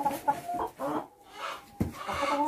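Laying hens kept in a backyard coop in England cluck repeatedly in short, uneven bursts, fairly close and moderately loud, with a brief quiet gap in the middle.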